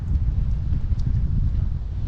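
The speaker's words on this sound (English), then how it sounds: "it's cold and you can probably tell it's windy" Low, rumbling wind buffeting the microphone on the Sea of Cortez shore at Loreto, Mexico, steady and close, with no voices.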